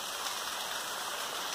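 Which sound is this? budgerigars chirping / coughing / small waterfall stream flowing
small waterfall stream flowing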